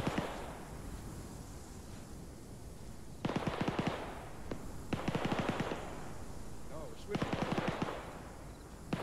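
Bursts of automatic gunfire in a video game crackle in three distinct volleys, fairly distant and rapid, over a low ambient rumble.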